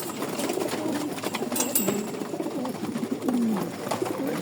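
Male pigeons coo in a loft, a low, continuous murmur of overlapping throaty calls from several birds close by, with faint rustling and no talk.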